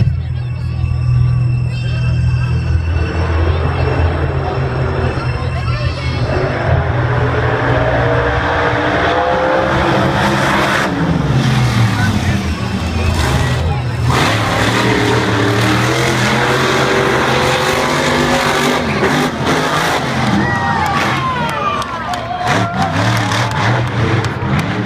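Two monster trucks, Overkill Evolution and Wolverine, run together in a practice session at the 2014 Monster Jam World Finals, their engines roaring loudly and continuously, rising and falling with revs, under a rumbling crowd-filled stadium ambience.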